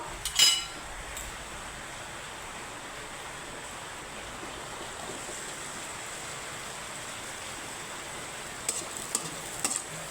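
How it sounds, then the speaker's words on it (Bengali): Flour-dough breakfast snacks fry in hot oil with a continuous, even, close hiss. A couple of brief utensil clinks come at the start and again near the end, and no one speaks. "একইভাবে আমি বাকিগুলো ভেজে নেব"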